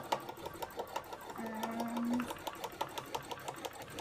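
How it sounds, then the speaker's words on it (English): Sewing machine stitching red thread on a cosplay piece, a close rhythmic needle clatter that runs steadily, slows and picks up again, with a brief tonal whine in the middle and no speech. "I'm going to be sewing with red for a while"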